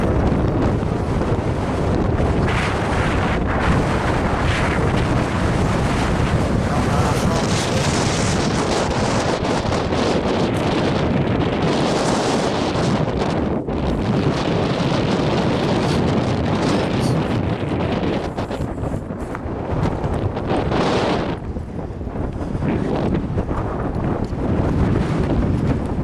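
Strong, steady wind roars and buffets the microphone in an open outdoor spot during high winds, a continuous loud rush with gusts swelling and easing over the whole stretch, no voices heard.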